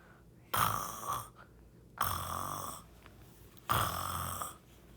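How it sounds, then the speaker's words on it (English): Three long, rhythmic snores at an even pace, each a rasping inhale, fairly quiet and close. "Snore, snore."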